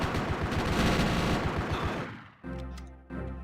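Rapid pistol gunfire from the handheld action game GTA: Chinatown Wars, a dense loud burst of overlapping shots followed by a short pause and then a couple of sharper single reports.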